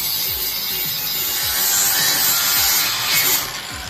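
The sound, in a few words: flap disc grinding on a car subframe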